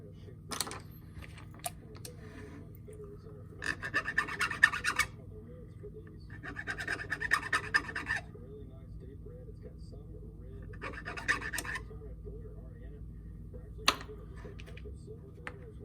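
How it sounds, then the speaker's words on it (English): Fine files rasp burrs off a freshly cast finesse fishing jig in short, quiet bursts of scratchy strokes separated by pauses, over a steady low background hum. "These are really fine files, so not to do deep gouges or anything."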